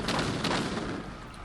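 A cannon tower in Age of Empires IV fires, giving a loud booming blast with a brief rumbling tail that fades over a second and a half.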